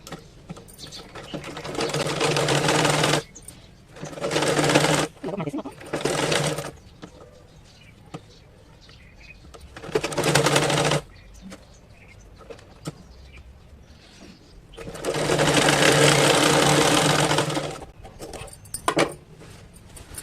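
A sewing machine stitches a folded edge on a shirt in several loud bursts of rapid mechanical whirring, separated by quieter pauses with handling noises and faint background sounds.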